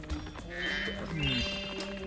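Goats bleat in the Spyro 2: Ripto's Rage video game, several wavering cries rising and falling over a busy layer of game music and ambience, moderately loud and close.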